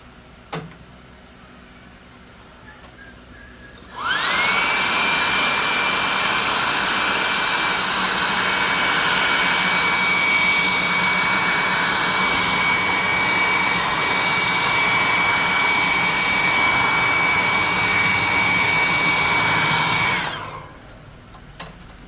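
A dryer blows steadily on wet paint on a miniature model for a tabletop shrine piece. It switches on with a sudden loud whoosh and holds a constant high airy roar with a faint whine for about sixteen seconds, then cuts off.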